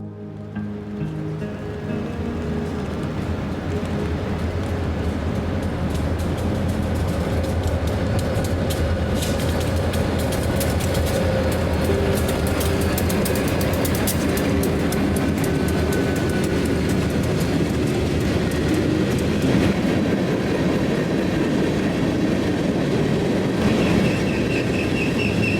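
A long freight train with chemical tankers and center beam cars rumbles past up close, loud and continuous, with rhythmic wheel clatter and occasional high metallic squeals.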